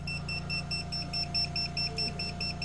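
Steady, evenly repeating electronic beeps from a low-battery alarm on a battery inverter powering a wood-fired boiler, a shrill warning tone pulsing continuously over a low electrical hum, fairly loud and close, with no talking.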